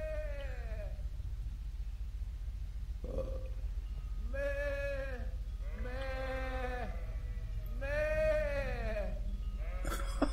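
A priest character in Kingdom Come: Deliverance bleats loudly like a sheep, several long wavering vocal bleats in a row with short pauses between them, a human voice imitating the animal over a steady low hum.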